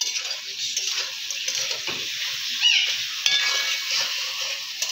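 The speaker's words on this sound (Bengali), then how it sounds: "আদা রসুন কোথায়? পেঁয়াজ ভাজা হচ্ছে।" Onions frying in a pan with salt and a little sugar, a bright close sizzle with spoon scrapes and a couple of light metallic clinks, no talking.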